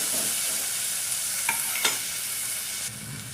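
Garlic and chopped tomato fry in a pan with a steady, close broadband sizzle. Two brief scraping stir knocks land near the middle, and no one speaks.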